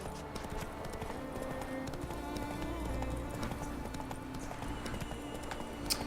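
Roach the horse in Witcher 3 gallops on auto run, a steady clip-clop of hooves under game music and ambience, moderately loud and continuous with no talk.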